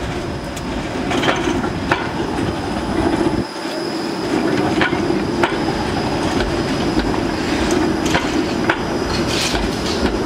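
A Toronto streetcar rolls past near Dufferin Gate, its wheels squealing and clacking over rail joints in a steady rumble, with sharp metallic clicks at intervals and no talking.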